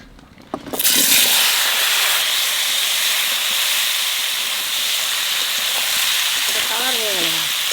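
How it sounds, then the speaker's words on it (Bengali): Eggplant goes into hot oil left over from frying fish, setting off a sudden loud hissing sizzle that carries on steadily and close, with a brief voice near the end. "এইবার বাগুনটা একটু বাজিয়ে নেবো এই মাছ ভাজা তেলের মধ্যে।"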